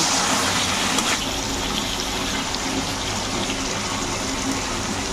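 Hot water poured into a pan of chicken curry, a steady loud gushing rush of liquid running continuously from start to finish, close by with no voices.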